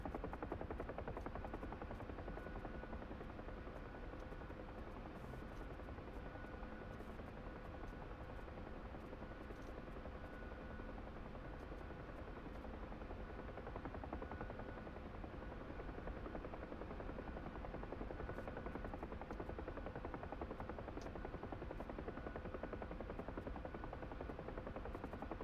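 A helicopter's rotor and engine keep up a steady, even drone while it flies in to set down on a tarmac, faint and distant-sounding with no voices.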